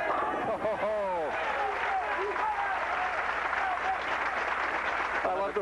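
A bowling tournament crowd applauds a bowler with sustained, dense clapping from start to finish, while a voice speaks briefly under the applause near the beginning and again at the end.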